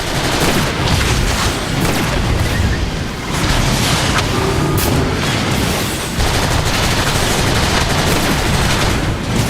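Dense, loud gunfire and booming blasts in a Transformers: War for Cybertron battle, a continuous wall of shots and explosions throughout with no talk.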